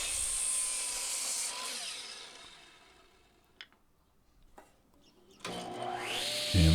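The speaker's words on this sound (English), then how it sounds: "So now let's cut that piece in half." Saw cutting a plywood piece in half, a bright rasping whine with a falling pitch that fades into quiet, a couple of sharp knocks, then the tool starting up loud again.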